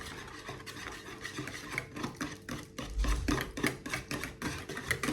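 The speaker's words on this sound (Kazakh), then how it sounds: "енді араластырамыз" Ayran, a kefir-like yogurt drink, is stirred in a bowl, producing steady close-up scraping and rubbing strokes in a quick repeating rhythm, with no voices.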